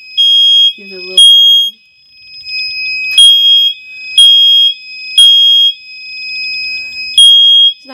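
A smoke alarm sounding during a bedroom alarm system test: loud, piercing high beeps in repeated bursts of roughly half a second, with a brief muffled voice near the start.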